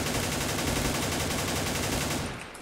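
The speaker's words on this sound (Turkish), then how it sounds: "Hemen HK ile vuruyorum." An HK gun fires in a shooter video game: dense, continuous automatic fire fills the whole clip at high level, then drops off slightly near the end, with no talking.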